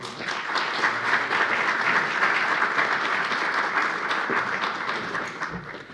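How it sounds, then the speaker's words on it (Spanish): A crowd applauding at the close of a formal panel event on gender perspective, a sustained dense clapping at moderate level that runs for about six seconds and tapers slightly near the end. "Un aplauso, por favor."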